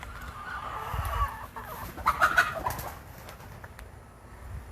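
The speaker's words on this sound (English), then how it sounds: "the chickens are trying to fly away over there" Chickens on an urban homestead garden cluck and squawk close by in a short flurry of sharp, excited calls, with quieter clucking before and after over an outdoor background.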